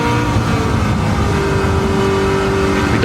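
Stielow Engineering Red Devil Camaro race car accelerating downhill on a circuit, a loud, continuous close engine roar building through the rev range as it shifts up to fourth gear.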